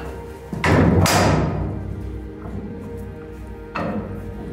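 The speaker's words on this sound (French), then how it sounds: "Tu peux refermer la culasse, s'il te plaît?" A heavy steel breech on a fortress turret cannon is swung shut, a deep resonant metallic thud that rings and decays slowly, followed by a second heavier clunk, close up inside a stone fort.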